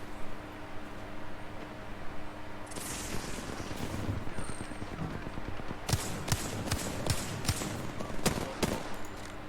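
Gunfire in the Apex Legends video game: sharp, rapid bursts of shots crack out, sparse at first and then in dense volleys during the second half, over a constant background of game noise.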